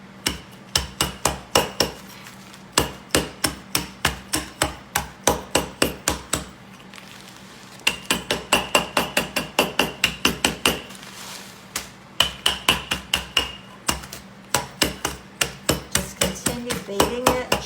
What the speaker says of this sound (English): Beating it, chopping it up.